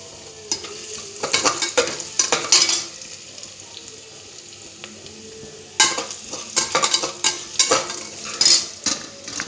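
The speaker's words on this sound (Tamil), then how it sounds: "வெங்காயம் ஓரளவு வதங்கிடுச்சு" Onions sautéing in a hot pan for coconut milk rice, a steady close sizzle broken by bursts of loud scraping stirs and clinks of a spoon against the metal, with no talk.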